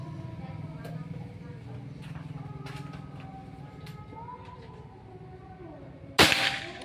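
A Pajero Gun Gen 5 PCP air rifle fires a single sharp shot near the end during an accuracy test, a loud close crack standing out over low background noise.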